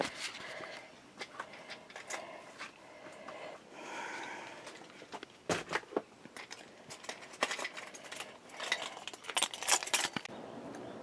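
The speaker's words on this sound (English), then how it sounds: "I don't have my keys. Yes, I do have my keys up here." Keys jangling and clinking in short, irregular bursts, close and fairly loud, during work on the jammed power sliding door of a 2008 Toyota Sienna XLE.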